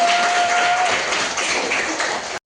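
Students in a classroom clap together in a dense, steady burst of applause lasting a couple of seconds, fairly loud and close, ending abruptly.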